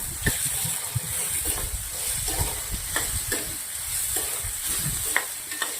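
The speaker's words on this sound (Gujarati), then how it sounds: "ત્રણ થી 4 મિનિટ આપણે એને સોતે કરવાનું છે" Vegetables with ginger garlic paste sautéing in a pan, a soft continuous sizzle punctuated by scattered clicks and scrapes of stirring, fairly quiet with no talking.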